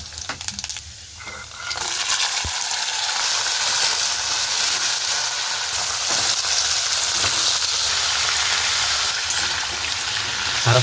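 Chilies dropped into hot oil with five-spice for a chickpea and potato curry, a loud steady sizzle of frying that starts after a short quiet opening and continues unbroken, with a few faint clinks.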